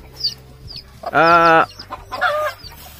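A mother hen that survived a civet attack clucks with her second brood of chicks, a loud harmonic call in the middle and softer peeping calls before and after.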